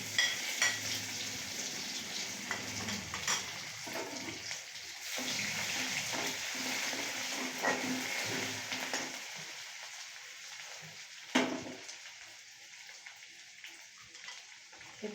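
Hand-ground garlic paste frying in oil in a pan with bay leaves, a bright, hissing sizzle that is strongest at the start, then softens and crackles intermittently, with a sharp clatter near the end.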